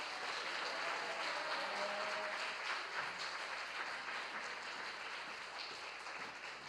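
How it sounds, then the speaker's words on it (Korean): Congregation at a church youth summer camp evening service claps to welcome a pastor, a steady, fairly faint wash of applause that holds for the whole span and tapers slightly toward the end. "목사님 나오실 때 우리 박수로 할렐루야로 환영하시겠습니다"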